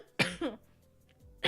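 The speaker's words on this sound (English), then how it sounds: "I'm coughing in a way where it doesn't fuck up my voice" A young woman on a livestream coughs twice in quick succession, near and fairly loud, then silence before another cough starts at the very end.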